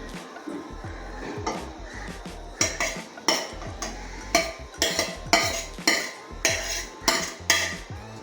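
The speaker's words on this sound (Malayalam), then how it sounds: "നന്നായി ഇത് ഇളക്കാം" Crushed coconut being stirred into melted jaggery in a pot, a spoon scraping and knocking against the metal in a steady run of clinks and scrapes, close and fairly loud, with no talking.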